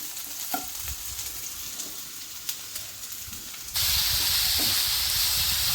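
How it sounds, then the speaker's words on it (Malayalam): Onions sautéing in a pan for Kerala karimeen pollichathu give a steady crackling sizzle with a few stirring clinks, then ground coconut paste goes in and the hiss jumps sharply louder and more even. "ഇനി നമ്മൾക്ക് അരപ്പും കൂടെ ചേർത്ത് വാട്ടണം കേട്ടോ"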